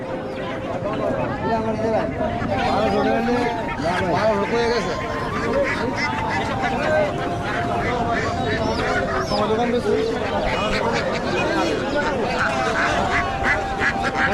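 Ducks quack at a rural village market, Belabo Bazar in Narsingdi, their calls mixed with a constant hubbub of chatter and bargaining voices around them.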